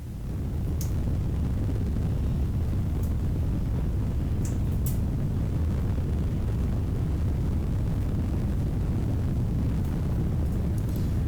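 A rocket climbing toward orbit in Kerbal Space Program 2, a continuous heavy engine roar and low rumble that holds steady throughout, with a few faint high clicks and no talking.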